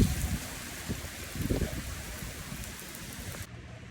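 Steady rain hisses continuously, with a few heavier patters and drips near the start, no voices.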